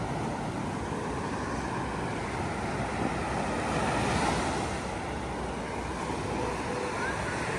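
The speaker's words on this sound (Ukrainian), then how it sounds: "Два останніх дні трошки хвилі на морі." Sea waves roll onto a beach in Odesa, a continuous broad roar of surf mixed with wind buffeting the microphone, steady and close throughout with a slight swell midway.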